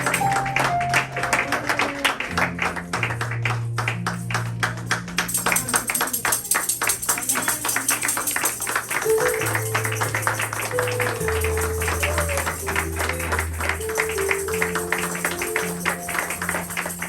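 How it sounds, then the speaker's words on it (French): Church congregation at a Christian assembly's special thanksgiving service breaks into steady applause and acclamations, dense clapping running throughout over sustained music tones, loud and continuous. "Est-ce qu'on peut l'encourager par des acclamations?"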